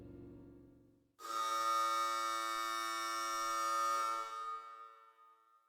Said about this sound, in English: Just then a loud buzzer echoed through the stadium.